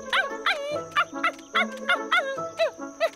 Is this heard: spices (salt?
no